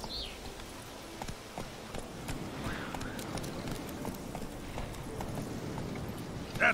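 Roach, Geralt's horse in The Witcher 3: Wild Hunt, gallops with steady, rapid hoofbeats close by, a continuous clip-clop rhythm heard over game ambience, with no talking.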